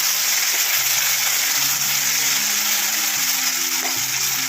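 Tomato frying in a pan for a Bengali-style okra and potato curry, giving a steady, close sizzle with a broad hiss that holds evenly throughout, with no talking.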